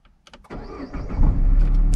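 A Peugeot 207 with a Prince engine cranks briefly and catches, then settles into a steady, close idle that grows louder and fuller, with no talking over it.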